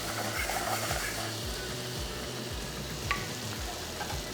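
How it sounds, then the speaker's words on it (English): Butter melts and sizzles in a pan for a pie sauce, a steady soft frying hiss with a faint rhythmic low hum underneath and one small pop, close and uninterrupted by speech. "let's just let this butter melt"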